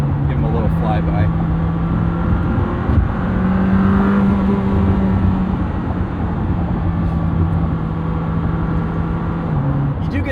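A Lamborghini Temerario sports car engine drones and revs steadily as it passes, loud and sustained with a shifting pitch, and voices talk over it.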